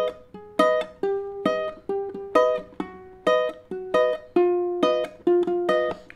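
Ukulele chords plucked in a steady repeating rhythm. Close and clear, with about a dozen bright, ringing strums and plucks and no talking.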